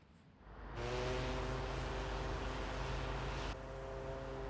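Ship setting sail on the sea in Tales of Arise, a steady low rumble and rushing wash of water that swells in and holds evenly, easing off slightly near the end.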